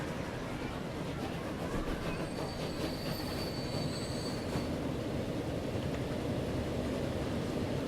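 A train in the Transport Fever video game rumbles steadily past with high metallic wheel squeals rising briefly over the continuous roar; no one speaks.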